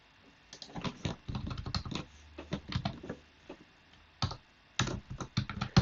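Typing on a computer keyboard while writing Python code, with bursts of quick clicky keystrokes separated by short pauses, close and clear, with no talk.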